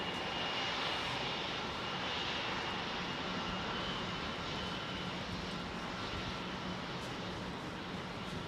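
Singapore Airlines Airbus A380 jet engines roaring at London Heathrow, a loud, steady, broadband engine rumble and whine that holds evenly throughout with no talk.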